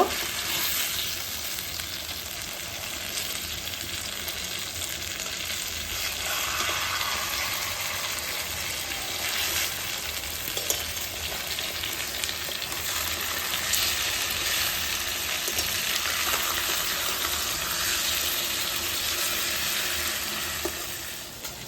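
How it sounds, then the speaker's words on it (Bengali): Tilapia fish pieces fry in hot oil in a pan, giving off a long, even crackling sizzle at moderate loudness that swells slightly now and then, with no voices. "মাছ কিন্তু আমার অপর পিঠটাও ভাজা হয়ে গেছে"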